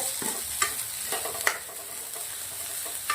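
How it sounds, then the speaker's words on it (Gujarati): Grated apple and carrot halwa roasts in a pan, giving a soft continuous sizzle while a spoon scrapes and stirs with a few sharper clinks against the metal, close and quiet. "હજી બે મિનિટ સુધી આપણે મસ્ત એને શેકવાનું છે"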